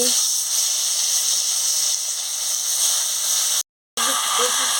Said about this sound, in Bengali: আর আমার তেল গরম হয়ে গেছে মাছটা ছেড়ে দিচ্ছি